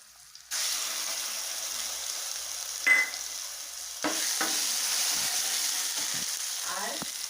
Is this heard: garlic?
yes